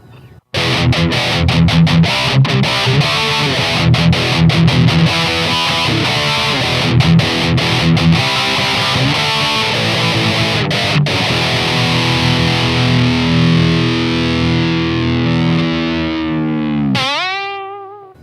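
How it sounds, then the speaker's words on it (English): Heavily distorted electric guitar through a Line 6 Spider V 240HC head on a Mesa Boogie-style high-gain setting, chugging chords and riffs that settle into a long sustained note before a sharp pitch dive. "Here's the Mesa Boogie type sound"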